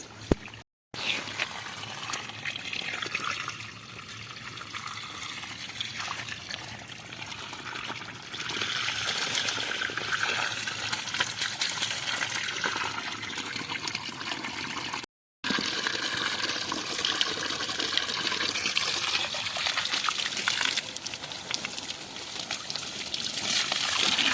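Water trickles and pours steadily from a hose or pipe while trees are watered on a farm, a continuous close flow with a brief break midway and no speech.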